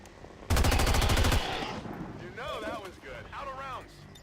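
Automatic gunfire from the video game XCOM 2: War of the Chosen, one loud rapid burst of about a second, followed by a voice talking with game effects underneath.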